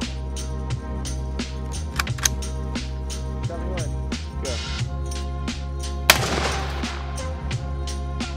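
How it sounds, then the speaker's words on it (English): An AR rifle shot sets off 2 lb of Tannerite wrapped in a TekMat. A fast series of sharp cracks runs under a steady background, then one distinctly louder, bursting blast rings out near the end. "let's see how that TekMat handled the explosion"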